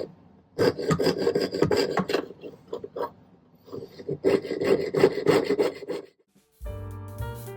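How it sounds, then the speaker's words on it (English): A jeweler's saw with a waxed blade cuts through silver in two long runs of quick, steady back-and-forth rasping strokes, close and fairly loud, separated by a brief pause, before a different low mechanical sound ends the passage. "Put a little wax on the blade and see if my sawing is getting any better."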